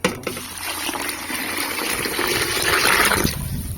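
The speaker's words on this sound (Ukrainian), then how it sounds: "І сюди вливаємо воду 5 літрів води." Ordinary unboiled tap water pours steadily into a container for a homemade marigold drink, a continuous rushing gush that swells slightly toward the end, close by with no talk.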